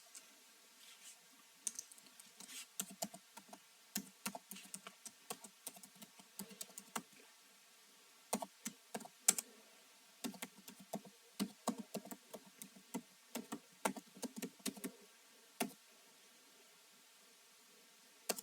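Steady typing of C++ code on a computer keyboard, with irregular bursts of crisp key clicks and short pauses throughout, close and clear in a quiet room with no talking.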